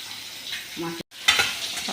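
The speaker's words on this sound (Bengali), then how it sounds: "মাছ ভাজা হচ্ছে এখানে" Rohu fish frying in hot oil in a home kitchen, a steady close sizzle with a brief drop out and a louder burst of spitting partway through, no voices.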